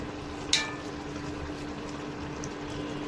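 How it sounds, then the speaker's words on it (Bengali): Lung bhuna cooks in a pan with a low, steady bubbling simmer throughout, broken once early by a short metallic clink. "সুন্দর ভুনা ভুনা হয়ে আসছে। আর কিছুক্ষণ নাড়াচাড়া দিলেই আর খুব জোর 15-20 মিনিট রাখলেই পুরোপুরি হয়ে যাবে"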